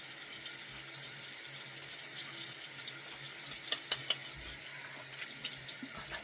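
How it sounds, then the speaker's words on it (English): Tap water running steadily into a sink during handwashing, a close, continuous hiss with soft splashes and small knocks of hands under the stream. "Now I'm gonna wash my hands again"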